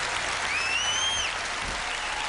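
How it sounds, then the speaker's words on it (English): A solo of hand clapping sounds as a dense, steady wash of claps with no clear gaps, joined briefly by a thin rising and falling whistle-like tone. "here's me doing a clapping solo."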